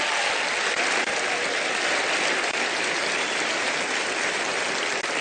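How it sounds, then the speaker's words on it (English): Dense, loud studio audience applause for a volunteer on the Penn & Teller: Fool Us magic show, a continuous roaring wash of clapping with no talk. "let's give Mark a nice round of applause"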